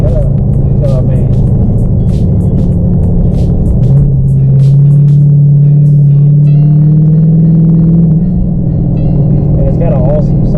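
A Dodge Charger fitted with an aftermarket catback exhaust rumbles at idle, a loud deep low drone that swells into a steady higher tone midway, while someone talks over it.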